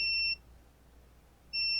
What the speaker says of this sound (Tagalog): Oh, may beep sound.